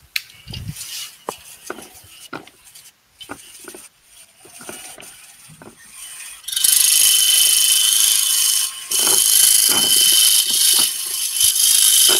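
A skew chisel works wood spinning on a lathe while a pagoda box is turned: a few scattered knocks and clicks at first, then a loud, steady, hissing scrape of the cutting that runs to the end.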